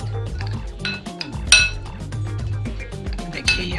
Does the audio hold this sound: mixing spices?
yes